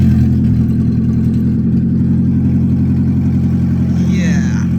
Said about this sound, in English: Now my Prius is really loud